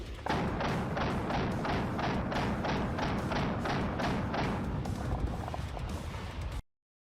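A G36 rifle fired full auto in a sustained rapid string of loud, evenly spaced shots lasting about six seconds, then cut off abruptly.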